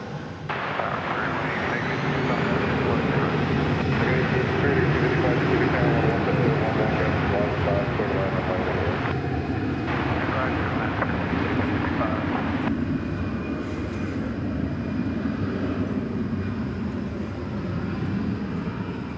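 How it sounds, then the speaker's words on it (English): An American Airlines A319 departs Dallas-Fort Worth for Monterrey at night, a loud, sustained jet roar that holds steady throughout, with a person talking over it. "There's an American Airlines A319 off to Monterrey, Monterrey, Mexico, on a late night flight."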